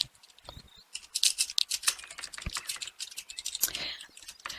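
Rapid irregular clatter of fingers typing on a computer keyboard, close and fairly quiet, in bursts and flurries with no voices over it.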